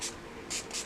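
Pump bottle of Gerard Cosmetics Cucumber setting mist sprayed in three quick close bursts, short hissing puffs separated by brief pauses.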